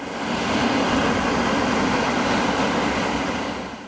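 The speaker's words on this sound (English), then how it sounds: "I never thought I'd be able to go for a ride in an L-39 jet" An L-39 jet aircraft's engine roars in flight, a steady, loud, broadband rush heard from close by with a thin high whine running over it throughout.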